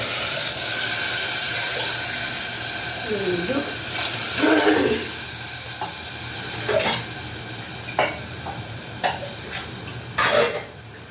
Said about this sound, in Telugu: రెండు 2 గ్లాసు నీళ్ళు పోసాను